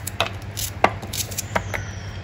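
Two onions are chopped in a kitchen chopper for a soya chaap paste, giving a few sharp close clacks and knocks over a low steady hum.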